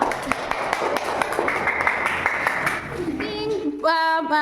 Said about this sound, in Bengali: সবাই ওর জন্য একটু হাততালি দাও